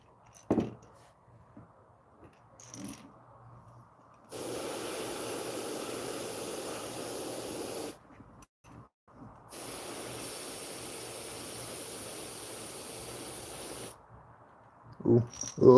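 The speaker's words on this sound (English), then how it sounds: "Ooh, a little overspray." An airbrush sprays paint onto a fishing lure in two long, steady bursts of loud, close hiss, each lasting several seconds, with quiet handling sounds and brief pauses between them.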